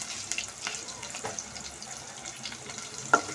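Curry leaves, dried red chillies and mustard seeds tempering in hot oil, a faint, steady crackle and sizzle with scattered pops and one sharper spit near the end.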